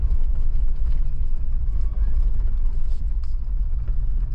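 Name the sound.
Jeep 6-cylinder engine revving off road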